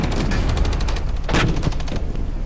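Soldiers in the wargame Regiments open fire in a loud, rapid fusillade of overlapping gunshots and bursts, close and continuous, with a heavier boom partway through.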